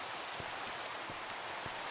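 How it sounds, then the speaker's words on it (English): Steady, soft rain falls in Minecraft as an even hiss of drops, faint and continuous, with no talk over it. "Yeah, rain, go away."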